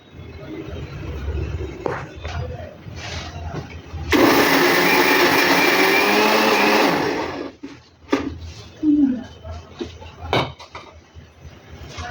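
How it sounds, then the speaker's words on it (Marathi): A mixer grinder whirs loudly for about three seconds, grinding fried puris fine, then stops; someone talks and kitchen clatter is heard before and after the grinding. "आता पहिले आपल्याला पुऱ्या मिक्सरमधून काढायचे आहे बारीक करायचे आहे"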